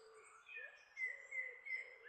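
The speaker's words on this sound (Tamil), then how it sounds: "இயற்கையோடு இயற்கையாய் ஒன்றி ஒன்றி லயமாகி வெளிப்படும் பறவைகளின் குரல் ஓசைகள்" Several birds call and chirp in a natural outdoor setting, with bright, warbling tones repeating in short phrases at a moderate distance, fairly faint but clear, no voices present.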